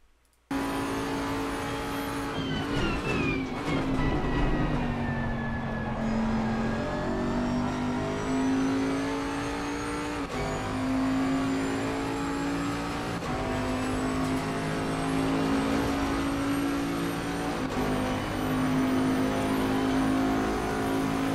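A 2020 Bentley GT3 race car at Monza in Assetto Corsa Competizione, its engine revving hard and shifting through gears, then holding a steady high drone as it runs flat out, loud and continuous throughout.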